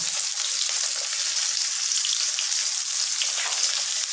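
Sliced onions frying in hot oil with salt, turmeric and dried chillies give a steady, close, bright hissing sizzle that runs without pause and without talk.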